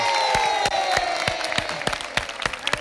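Audience applause at a festive community event in Agüimes, Gran Canaria: dense, loud, steady clapping from a close crowd, with sharper individual claps standing out throughout and no talking.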